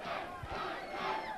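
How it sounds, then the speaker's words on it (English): A dense wrestling crowd at a battle royal event roars and chants together in a sustained, loud wall of voices, heard briefly with no commentary over it. "The crowd is chanting,"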